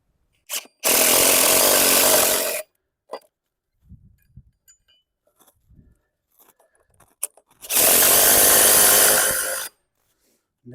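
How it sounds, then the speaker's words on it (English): An impact driver fitted with a 17mm socket drives bolts while hanging a field gate outdoors: two loud, close bursts of rapid hammering, each about two seconds long, separated by quiet with faint handling noises. "I've got a 17mm socket in my impact driver, just to whack these in"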